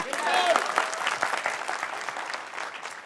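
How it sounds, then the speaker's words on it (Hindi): An indoor crowd at a business felicitation event applauds, a dense wash of clapping that swells at first and then tapers off, with scattered voices mixed in. "10 साल घट गया तो ताली बजना चाहिए ना"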